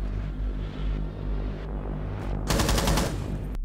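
An ARX rifle in Rainbow Six Siege fires a rapid automatic burst of about half a second near the end, over a constant low game hum.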